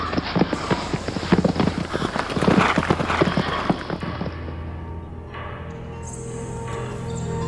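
Several horses' hooves clip-clop in a radio drama as soldiers mount up and ride off, a dense, busy patter for about four seconds that then fades into a steady ambient background with no voices.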